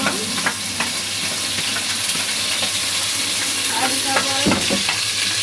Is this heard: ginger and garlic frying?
yes